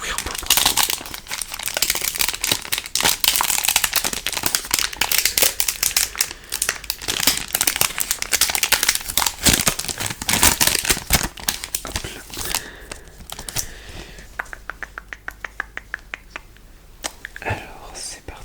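Lorcana card booster packs are torn and opened close to the mic, with dense crinkling and crackling of foil wrappers and sharp tearing bursts, while a soft whispering voice speaks throughout.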